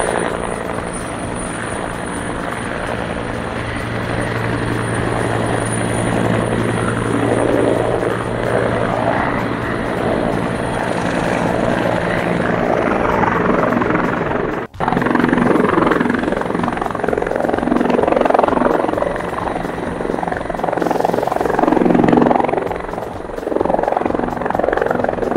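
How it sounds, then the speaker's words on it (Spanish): Helicopter arriving at La Aurora airport in Guatemala during preparations for a military parade, a loud, steady rotor and engine roar that holds close and constant throughout. "Ahí viene el primer helicóptero ya."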